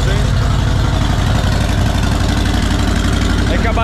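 Harley-Davidson motorcycle engine idling after being hot-wired on a slightly drained battery, a loud, steady, close low rumble throughout.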